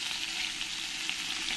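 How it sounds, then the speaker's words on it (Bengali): Pieces of rohu fish frying in hot oil in a wok, a steady, bright sizzle heard up close with nothing else over it. "মাছটা ভাজা হয়ে যাবে।"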